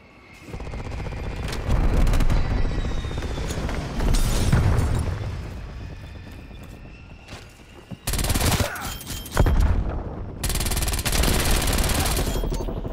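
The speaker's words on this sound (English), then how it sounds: "No way, who just called a strafe in?" A strafe run in the multiplayer shooter Black Ops Cold War rips through the scene as loud, sustained bursts of rapid machine-gun fire with booming impacts, continuous and dense, with brief breaks between volleys.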